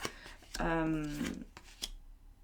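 Tarot cards are turned over and slid on a table, brief papery flicks and shuffling sounds, with a voice speaking over part of it.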